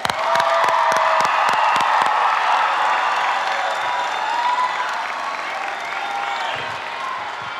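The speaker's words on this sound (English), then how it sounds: "can we give all of our seniors one more round of applause" Loud crowd applause and cheering for graduating seniors at a 2023 high school graduation ceremony, with sharp close claps at the start giving way to sustained cheering and whoops that ease slightly toward the end.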